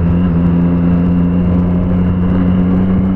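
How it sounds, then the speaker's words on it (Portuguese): A motorcycle engine revs nearby, a loud steady mid-pitched engine drone with a firm hum and slight throttle swells, no voices over it. "Olha lá, escuta a moto."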